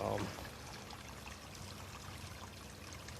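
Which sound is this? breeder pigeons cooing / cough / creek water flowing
creek water flowing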